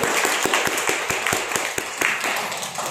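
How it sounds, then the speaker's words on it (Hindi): Loud, sustained applause from a crowd at a product training event, with dense overlapping claps and a few sharper individual hand claps standing out throughout. "जोरदार ताली हो गई"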